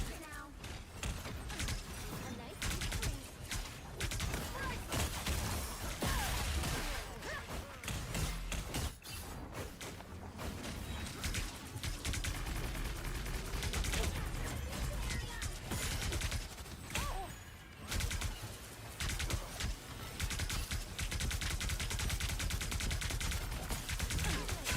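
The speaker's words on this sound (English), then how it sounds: "Shooting into shields." Dense video-game gunfire, rapid bursts and shots in a solo match, some hitting shields, loud and continuous for the whole stretch with thuds and mechanical clatter mixed in.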